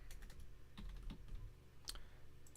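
Computer keyboard typing during a live toy-collector stream, a handful of quiet, irregular key clicks over a low steady hum, with no voices.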